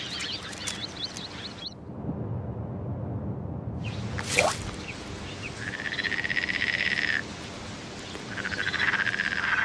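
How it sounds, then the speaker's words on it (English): Giant swamp frogs croak at a lush Sahara wetland oasis, with long buzzing trills and rapid repeated calls rising out of a dense night chorus, plus a sharp splashy burst midway. "Even amphibians like the giant swamp frog thrive here."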